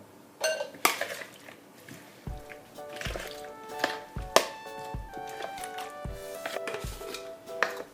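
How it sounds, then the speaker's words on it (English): Honey, lemon juice and ginger being mixed in a container, with repeated clinks and knocks of a utensil against the vessel and scraping, at close range with no talk. "Now mix very properly."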